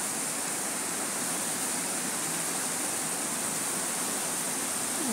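Heavy rainwater flowing down from above during thunderstorms in Lebanon, a steady, dense rush, constant and loud throughout with no breaks.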